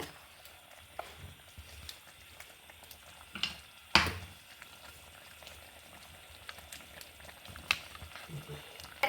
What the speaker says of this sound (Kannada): ಮಸಾಲೆ ಕುದಿ ಬರ್ತಾ ಇತ್ತಲ್ಲ